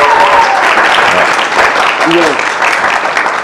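Studio audience applauds a musician during a French-language interview, a loud steady patter of clapping while a voice briefly speaks over it and a short tonal sound cuts through midway.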